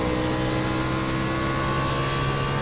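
A race car in iRacing circles Iowa, its engine droning in a steady, loud, close tone that holds evenly throughout with no clear rise or dip.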